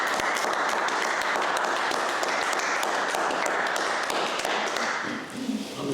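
An audience in Ullswater, Cumbria, claps after a talk on wildlife recording. Dense, steady applause runs throughout and fades slightly near the end.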